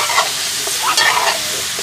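French fries frying for a curry while being stirred, a loud close crackling sizzle with scraping swirls of a spoon through the hot oil.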